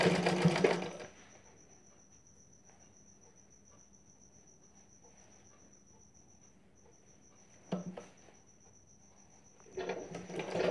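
A sewing machine stitches a folded side seam on a blouse in short bursts: one at the start, a brief run near the end and another at the close. Between them is near-silence with a faint steady high hum.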